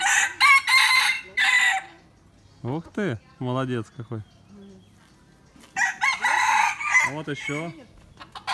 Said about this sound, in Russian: Тайский петух. Наверное, бойцовский.